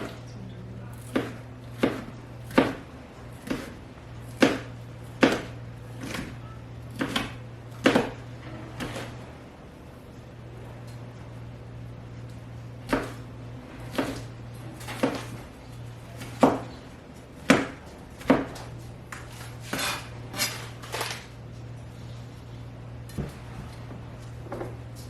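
Peppers are chopped on a cutting board for a healthy lunch bowl, with sharp knife knocks in uneven bursts, a quieter pause midway, then more chops over a steady low hum, close by.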